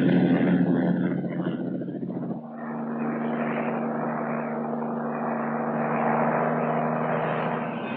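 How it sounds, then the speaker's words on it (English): A Piasecki H-21C Shawnee twin-rotor troop-carrier helicopter in 1963 South Vietnam, its steady engine and rotor roar loud and continuous, with a pitch shift partway through. "Troop carrier is the big twin rotor H-21."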